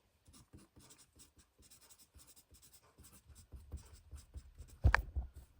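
Bic pencil writing on paper, soft scratchy strokes in short bursts, close and quiet, ending in a louder thump.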